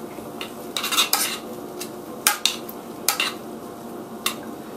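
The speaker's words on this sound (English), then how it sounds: "Put that in the pan. Stir it." Homemade stovetop stuffing of seasoned breadcrumbs being stirred in a pan: a series of sharp metallic scrapes and clinks of a utensil against the pan in irregular bursts, close and clear over faint background quiet.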